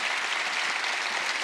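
A church congregation applauding during a Wednesday worship service, a dense, steady wash of many hands clapping at constant loudness without any voices.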